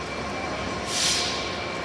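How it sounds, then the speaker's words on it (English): A Great Northern diesel train passes through York Station, a steady rumbling roar with a brief hissing swell midway, heard at close range without speech. "Oh my God, that's an diesel train."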